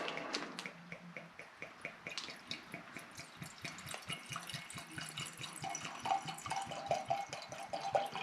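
Wine pours into a glass at close range, a rapid series of gurgling, splashing drips that keep going throughout, with no talking over it.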